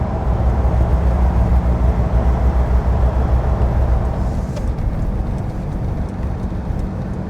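A Land Rover Defender 2.2 TD4 with a stage 1 remap pulls away from a roundabout, its diesel engine holding a loud, steady droning rumble with road and wind noise.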